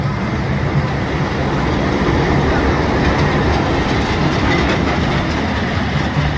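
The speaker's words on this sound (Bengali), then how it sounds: "এই যে ট্রেন আসে ট্রেন" A train rushes past at speed with loud, continuous rumbling and clattering of rail wagons, close by and steady for the whole stretch.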